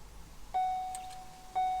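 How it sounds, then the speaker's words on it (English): Two clear electronic chimes from a Ford Focus, each a steady tone held for about half a second, spaced a second apart over quiet background. "The vehicle chimed."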